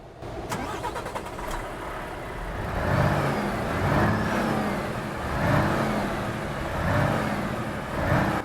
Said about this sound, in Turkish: Aracın sesini duyalım arkadaşlar yavaştan.